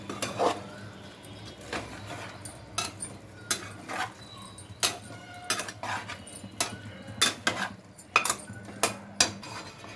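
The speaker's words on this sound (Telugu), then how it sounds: "ఇప్పుడు ఉడికించుకున్న చికెన్ దీంట్లో వేస్తున్నాం. మొత్తం ఒకసారి కలుపుకోవాలి." Cooked chicken is stirred in a curry pot with whole spices, bringing repeated metal spoon clanks and scrapes against the pot at an irregular rhythm over a low sizzle, close and fairly loud.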